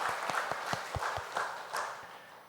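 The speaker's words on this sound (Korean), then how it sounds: "박수를 드리겠습니다." A Korean church congregation at Sunday worship claps, the sparse, distinct hand claps faint and slightly distant, lasting a couple of seconds without speech.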